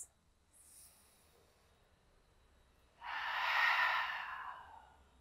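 Breathy exhale during a guided yoga session, a soft airy whoosh of several seconds standing alone in a quiet room after a faint earlier breath.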